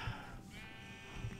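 Sheep bleating in Minecraft, two short low bleats at the start and end of the moment, fairly near, with ambient game music tones sustaining between them.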